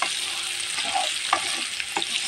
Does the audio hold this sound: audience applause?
no